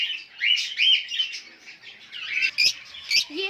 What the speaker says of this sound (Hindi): ये फिशर्स है, इनकी हमने कॉलोनी बनाई हुई है।